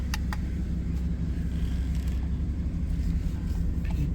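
Steady low engine rumble from a 2011 Cadillac Escalade EXT with the 6.2-litre LS V8 on a test drive after a throttle body cleaning, a continuous droning hum with faint road noise and a couple of brief clicks, no talk.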